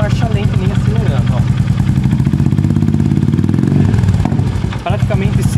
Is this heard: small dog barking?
no